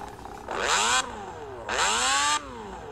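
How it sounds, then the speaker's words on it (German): A small lawnmower-type engine revs up twice in short bursts, rising and falling in pitch between steady idling, loud and close. "Junge, das ist ein Rasenmäher."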